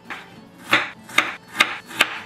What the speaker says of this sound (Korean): 청양고추 씹히는 맛도 좋아해서 좀 크게 크게 썰어줍니다.